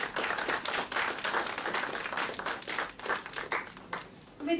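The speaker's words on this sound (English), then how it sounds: "Please welcome her with a huge round of applause." Audience applause at a corporate and insolvency law conference, a steady wash of many hands clapping through the whole stretch, moderately loud with no talk over it.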